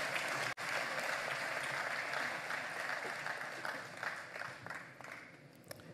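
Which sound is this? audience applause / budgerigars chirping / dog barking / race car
audience applause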